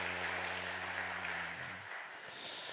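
A church congregation claps together at a Sunday worship service, a dense, steady wash of applause after a pastor's piano-led hymn, with a sustained organ-like tone underneath that fades out partway through.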